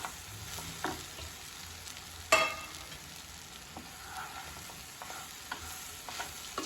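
Leftover pav bread is sautéed with spices in a pan, a quiet sizzle running throughout, broken by occasional stirring scrapes and one sharper clink of the spoon against the pan.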